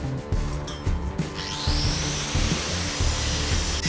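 Grinder working high-carbon steel on a Swedish axe head, a steady broadband grinding roar that swells and continues alone without talk.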